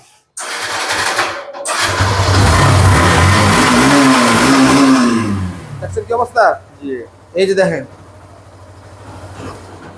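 A used Gixxer motorcycle engine starts and revs hard with a rising whine, then settles into a lower idle before short bursts of throttle and some nearby voices.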